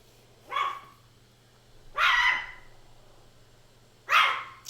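A dog barks in the background in three separate bursts spaced about two seconds apart, fairly distinct over a low steady hum, with no talking.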